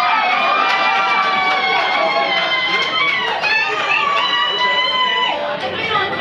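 A concert crowd at a live show at The Hop in Spokane, Washington, cheers and screams loudly throughout, many high voices overlapping in a dense, sustained roar close to the microphone.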